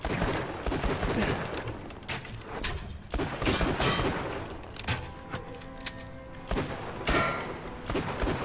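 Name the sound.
enemy gunfire in Tiny Tina's Wonderlands video game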